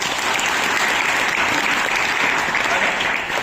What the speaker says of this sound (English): Can we get a round of applause, guys?